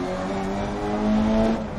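Engine of a Mini race car in the racing video game GRID, a steady droning whine with a tone that climbs slightly, heard up close and alone with no talk.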